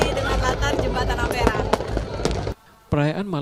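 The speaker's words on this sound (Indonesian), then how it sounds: "Tahun Baru ditutup dengan pesta kembang api, menambah kemeriahan malam pergantian tahun di Kota Pempek." New Year's Eve fireworks over the Musi River in the city of Palembang crackle and pop in loud, dense bursts with sharp bangs, then cut out abruptly into brief quiet before a voice speaks.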